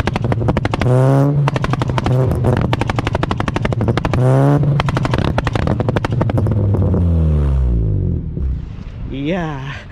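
A modified manual Honda Jazz GK5 with racing clutch fires off on launch control: loud rapid machine-gun-like pops and crackles over a held high rev, with rising and falling engine sweeps between bursts.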